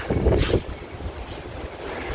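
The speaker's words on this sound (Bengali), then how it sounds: "হাওয়া দেহ বাতাস কি পরিমাণ আজকে হাওয়া" Strong outdoor wind roars and buffets against the microphone in a Bangladeshi village, with a loud gust at the start easing into a steady rushing noise.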